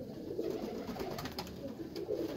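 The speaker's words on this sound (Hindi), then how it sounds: "कबूतर सारे करीचे पे आए हैं" Several pigeons coo softly and continuously on a ledge, a low murmuring chorus with no talk.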